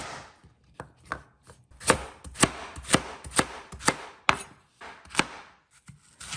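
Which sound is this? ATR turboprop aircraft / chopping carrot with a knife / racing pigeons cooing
chopping carrot with a knife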